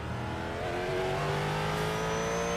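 A Ford GT3 race car's engine in iRacing drones steadily and loud as the throttle is rolled on, with rising harmonic tones and a continuous close roar throughout, no talking.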